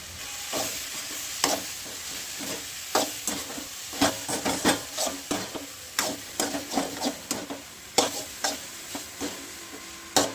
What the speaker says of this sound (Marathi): आपण असं परतवून घेतलेलं आहे पनीर मस्त